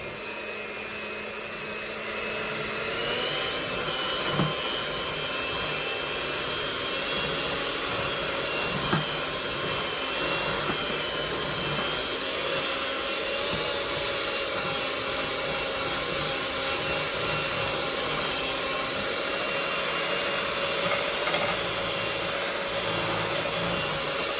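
An electric mixer beats rainbow cake batter at higher speed, a steady loud whirring drone that runs without a break from start to finish with slight shifts in pitch, and no talking over it.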